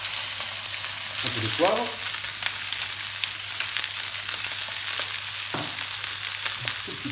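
A stuffed turkey roast sears in a hot pan, giving a steady close sizzle and crackle throughout, with brief stirring clatter and a voice speaking French in places.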